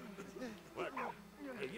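Dog in the video game Valiant Hearts: The Great War gives a few short, faint yips and barks in quick succession, mixed with light game sounds.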